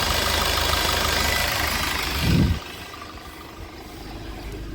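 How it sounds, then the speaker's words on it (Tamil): A Swift Dzire car engine idles with a steady low rumble, close by, with a brief louder thump partway through before settling back to the hum. "ஸ்விஃப்ட் டிசைர் வண்டி, இன்ஜின் நாய்ஸு"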